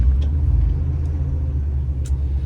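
An old Jeep Wagoneer, freshly worked on with bled brakes, runs with a low steady engine rumble as it drives off, loud and close with a couple of faint clinks.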